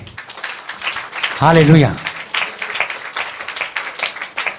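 A congregation claps hands together at a church healing ministry service, with dense, steady applause throughout and one voice calling out loudly for a moment midway.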